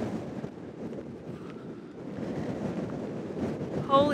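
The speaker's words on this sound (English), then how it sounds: "Oh my goodness, it's so windy." Strong wind on high Nullarbor sea cliffs buffets the microphone in a constant, rough roar, gusting louder toward the end, with a brief voice at the close.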